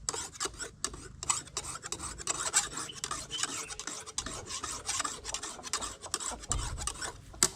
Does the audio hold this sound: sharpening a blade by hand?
yes